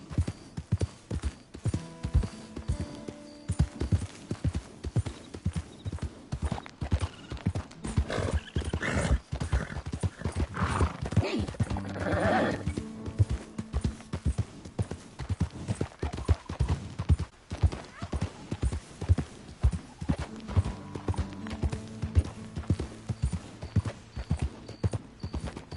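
Horse hooves gallop in Red Dead Redemption 2: a steady, fast clip-clop that runs the whole time at close range, with the odd snort or whinny and a tonal game score underneath.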